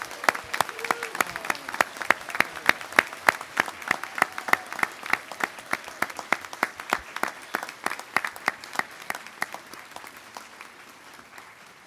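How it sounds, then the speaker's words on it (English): At a 2021 college graduation ceremony, an audience gives a final round of applause to the graduates: sparse, distinct claps at a steady rhythm, moderately distant, tapering slightly near the end. "I'd like to invite everyone to give a final round of applause to all our graduates"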